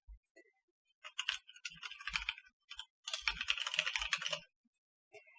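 A URL typed on a computer keyboard: quiet, close clicking keystrokes in short irregular bursts and a faster run, separated by brief pauses.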